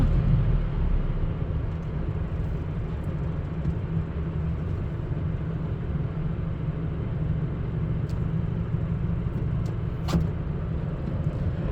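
A 7.5-ton delivery truck driving through city streets, its engine a steady, loud low rumble with road noise throughout and a few faint high clicks, no talking.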